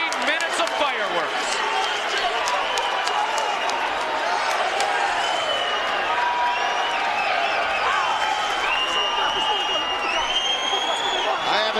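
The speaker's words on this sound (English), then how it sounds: "I haven't seen a crowd reaction like this in a long, long time." A packed arena crowd roars and cheers after a mixed martial arts fight goes the full distance between Chuck Liddell and Vitor Belfort, a loud, sustained wash of cheering and whistles that holds steady throughout.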